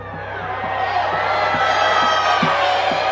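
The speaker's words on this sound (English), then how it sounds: "Now we have the crowd back." Crowd noise at a U.S. women's basketball game: a steady, distant roar of a large audience that swells slightly and carries scattered indistinct voices.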